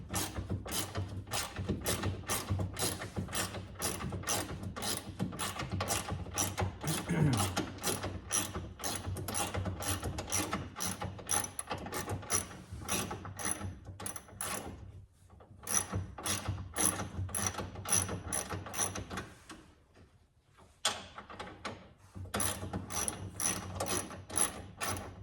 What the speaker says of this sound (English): use the 10 millimeter wrench to take these 3 fasteners off